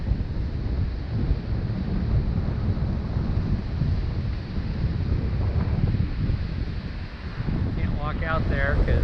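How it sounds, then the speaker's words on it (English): Strong wind roars and buffets the microphone continuously at the Pentwater Channel on Lake Michigan, a low rumbling gust that barely lets up, with a brief voice near the end. "Very windy today."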